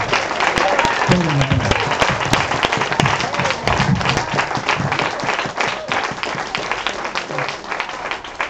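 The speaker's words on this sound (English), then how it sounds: "I'll give you another round of applause" Sustained congregation applause at a Hebrew and Biblical cultural center holy convocation, dense even clapping filling the room with crowd murmur beneath.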